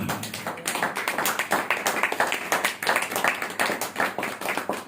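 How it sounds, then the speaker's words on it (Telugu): A church audience claps in a quick, regular rhythm at a Christian worship service, the crisp sharp hand claps close and loud with no talking. "ఎట్టిందంటే సచ్చినడికి చప్పట్లు కొట్టినట్టుంది"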